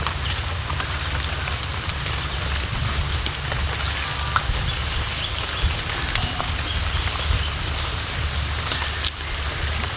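Monsoon-season rain falls on surfaces as a steady, even hiss, with small scattered drips and taps standing out now and then, with no voices.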